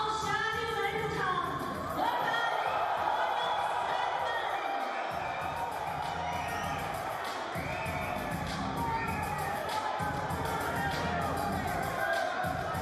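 A full-house crowd at a snooker match, the International Championship quarter-final, fills the venue with a steady murmur and cheering that holds throughout at a moderate level.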